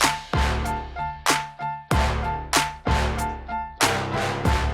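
An epic hip-hop sports music cue without its mastering chain, with heavy booming drum hits and sustained tonal layers pulsing in a steady rhythm, loud and close with no talking.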